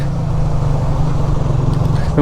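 A motorcycle is ridden along a rough mountain road. Its engine gives a loud, close, steady low rumble and drone for the whole moment, with slight bumpy fluctuations.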